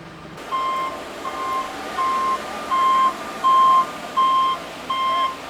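A concrete truck's reversing alarm sounds at a construction site for a basketball court, giving a steady series of about seven evenly spaced, loud single-tone beeps over low engine rumble.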